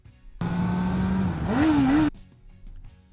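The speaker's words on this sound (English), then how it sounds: "Rev bombing." A motorcycle engine being rev bombed: one loud, close burst of revving that holds steady, then rises in pitch before cutting off, with quiet surroundings before and after.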